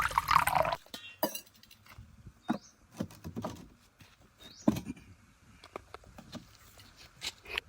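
Raw chicken pieces are washed with water outdoors, with close, intermittent splashing and wet handling sounds and occasional clinks of a container between short quiet gaps.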